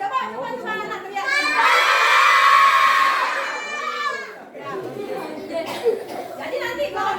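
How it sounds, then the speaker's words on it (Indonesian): Elementary schoolchildren at SDN 5 Munduk shout for help together in a loud, sustained group yell lasting about two seconds, followed by scattered voices and chatter. "Jadi teriaknya tolong yang keras. Coba anak teriak."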